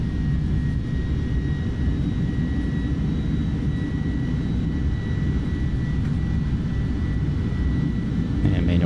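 An Airbus A310's jet engines roar in reverse thrust just after touchdown in a flight simulator, a loud, steady low rumble with faint whining tones above it, holding constant and rising slightly at the very end, while someone talks.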